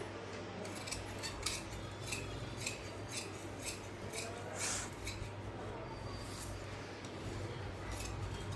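Scissors cut through frock fabric, making a steady series of close, crisp snips with a soft rasping sound as the blades slide, and no talk is heard.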